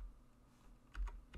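Keystrokes on a computer keyboard while coding a beginner JavaScript weight converter: a few quick, fairly close clicks near the end of a short, quiet stretch.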